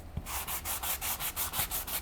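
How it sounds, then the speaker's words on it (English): A sanding sponge rubs back and forth over wooden picture frame molding trim, about eight quick, even strokes in a steady rhythm, close and fairly soft, with no talking. "I'm just gonna use my sanding sponge to kind of like smooth it out even more"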